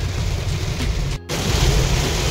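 Heavy rain drums continuously on a moving car as it drives toward Panchgani, a dense close hiss with a brief dropout partway through.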